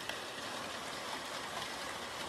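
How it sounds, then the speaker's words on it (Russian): Steady rain drums softly outside a house, a faint, even hiss of drops that never lets up. "Дождь можно слушать, как он красиво-красиво стучит."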